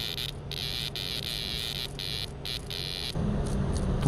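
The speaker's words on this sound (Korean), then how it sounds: "어디선가 매미의 비명소리가 들려왔습니다" Harsh, pulsing distress buzz of a cicada attacked by a hornet, repeating in short bursts over a steady background hum, close and insistent, then breaking off near the end.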